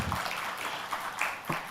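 Brief applause from the audience at a banking and finance marketing summit and awards event, a scattered wash of claps at low level with a few sharper individual claps standing out.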